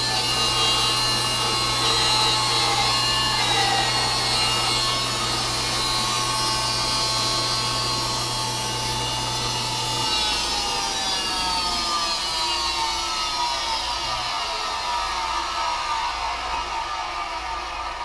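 A Carter miter mill whines steadily through wood for several seconds, its tone shifting as the cut finishes and the blade spins down; no talking.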